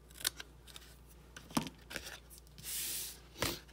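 Scissors snip paper at an angle to make a box template, several crisp close cuts at irregular intervals with a longer rustling swish of paper between them.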